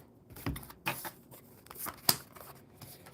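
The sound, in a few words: shuffling a deck of tarot cards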